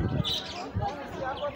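Parrots in a garden aviary give faint, scattered chirps and tweets beneath a person talking nearby.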